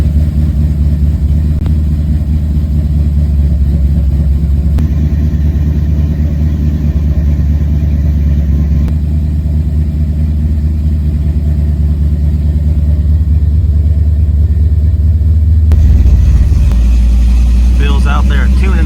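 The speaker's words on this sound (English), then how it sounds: "Bill's out there tuning the carburetor." A car engine idling steadily and loudly while its carburetor is tuned, a constant low drone that lasts throughout and shifts slightly in tone near the end.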